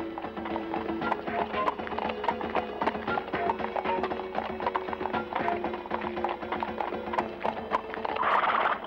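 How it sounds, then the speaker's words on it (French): Steady clip-clop of horse hooves on a hard surface, brisk and continuous, with a faint whinny and light background noise. "poursuit son escalade à cheval"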